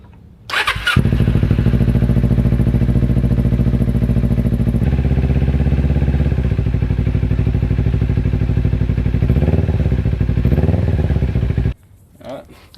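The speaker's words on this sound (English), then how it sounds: "so we'll just get the bike started now" A Kawasaki Ninja 250r starts with a brief crank, then settles into a loud, steady, close idle that runs for about ten seconds, with a couple of slight revs before it shuts off.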